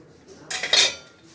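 A short burst of metal pans clattering and rattling together, loud and close, then quickly fading to quiet.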